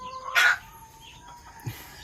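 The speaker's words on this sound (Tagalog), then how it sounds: "pakita ko lang sa inyo yung mga manok natin mga farmers" Backyard chickens, one near squawk followed by a faint low cluck, over a steady background hum, with no talking.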